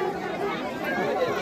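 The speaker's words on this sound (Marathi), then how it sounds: "हे पहा इतकी गर्दी आहे बघा" Dense crowd chatter fills the descent path at Jejuri Khandoba temple, a steady close murmur of many voices with no single speaker standing out.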